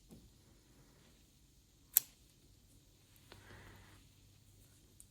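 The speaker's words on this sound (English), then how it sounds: "And then we can just trim these tails." Scissors trimming yarn tails during crochet in a quiet room: one sharp, close snip, then a fainter click and some soft rustling.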